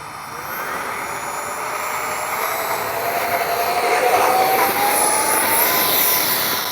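An X-Fly 40mm F-15 RC jet with a ducted fan whines loudly as it takes off and flies from a runway in a crosswind, a steady high-pitched roar that swells as it passes and stays strong throughout.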